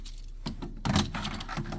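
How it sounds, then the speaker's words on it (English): A set of car keys jangles briefly, two quick close metallic rattles about a second long. "I put the car keys on"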